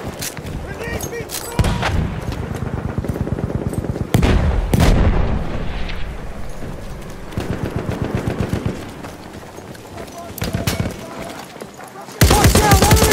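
Gunfire in a war video game: rapid machine-gun bursts and single shots with occasional booms, loud and up close, mixed with game voices shouting.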